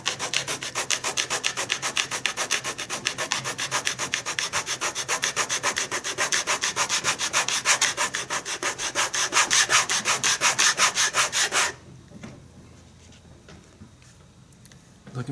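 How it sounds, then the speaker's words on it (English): A sanding disc grinds against a contact-cemented shoe sole with a fast, even rasping stroke that runs loud for about twelve seconds and then stops, leaving quiet room noise. "we're starting to load up this sanding disc a little bit"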